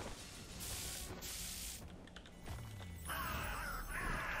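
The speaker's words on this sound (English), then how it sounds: "Should be able to get him here with the crows." Crows summoned as an attack in the video game Warlander, sounding as loud, harsh cawing mixed with hissing, spray-like bursts that continue for several seconds without a pause.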